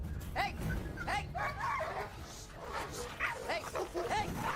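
A powerful bulldog and other dogs bark and yelp repeatedly in an indoor fight, a string of sharp overlapping barks over several seconds, moderately distant, with people shouting around them.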